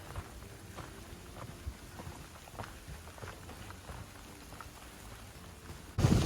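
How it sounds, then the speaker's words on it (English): Rain falling on a forest trail along the Appalachian Trail, a soft, steady patter of drops on leaves and ground with a faint distant rumble, quiet and continuous, then a sudden louder rustle at the end. "it's starting to rain"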